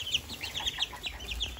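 Tiny miniature Aztec chicks peeping in quick, high, soft chirps, a steady scatter of small calls close by with low background noise.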